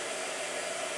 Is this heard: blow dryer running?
yes